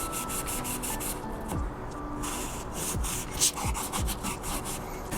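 Abrasive scratching on the flats of a used steel knife blade being refurbished, a run of quick back-and-forth sanding strokes, close and steady, with no talking.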